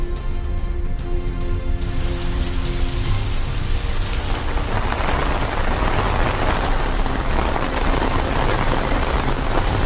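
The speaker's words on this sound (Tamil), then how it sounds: "சுமார் 1 மணி நேரத்திற்கும் மேலாக மழை பெய்தது." Heavy rain pours steadily across Tiruvallur district, a dense, loud hiss on surfaces that lasts throughout, with a faint tonal hum in the first couple of seconds.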